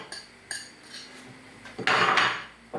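Butter is dropped into a mixing bowl already holding sugar, with a few light clinks of a utensil against the bowl and then a louder scraping clatter near the end.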